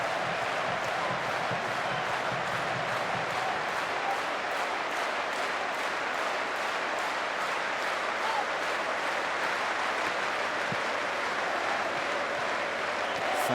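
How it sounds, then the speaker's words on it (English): Dynamo Dresden football fans on their feet in a stadium after a 4-1 DFB-Pokal cup win over Hamburg, dense sustained applause and crowd noise filling the stands evenly throughout, loud and continuous with no gaps. "Fans on their feet applauding what has been an excellent performance from Dresden this evening."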